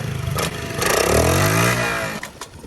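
A custom Honda Z50 mini bike with an aggressive cam revs hard, its engine note climbing and rising in pitch before settling back, with rattly mechanical clatter around it.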